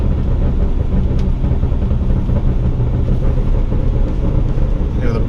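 Steady low exhaust burble from a BMW 135i, a continuous rumbling engine note heard from inside the car while driving, loud and unbroken throughout.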